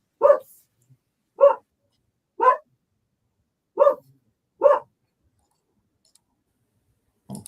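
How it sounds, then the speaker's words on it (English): A dog barks five times at a steady, unhurried pace, each bark short and clear against silence, followed by a fainter sixth bark at the end. "I'm waiting for the dog to finish."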